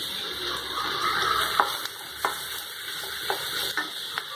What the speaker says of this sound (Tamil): ஒரு பேனில் கொஞ்சமாக ஆயில் விட்டு இப்போ ஆனியனும் டொமேட்டோவும் வதக்கி எடுத்துக்கலாம்.